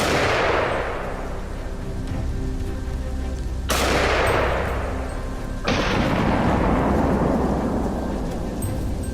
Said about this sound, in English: Swiftly pulling the trigger, the bullet struck its head, leaving the beast no chance to escape.